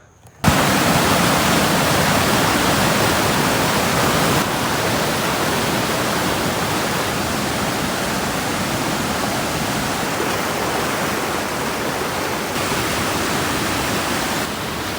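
Loud, steady rush of a flowing stream at Narampanawa, Sri Lanka, running high, that starts abruptly and continues as a dense, unbroken roar, close by.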